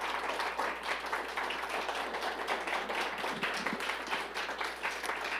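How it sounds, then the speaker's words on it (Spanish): A church congregation applauds in a steady, dense burst of clapping from many hands that carries on evenly for several seconds, with a low hum underneath. "¿Le puede dar un fuerte aplauso al Señor?"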